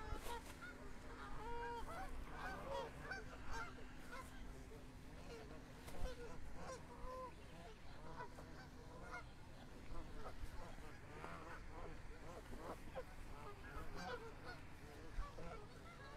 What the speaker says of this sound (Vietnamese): Ồ, hải âu tới nữa kìa.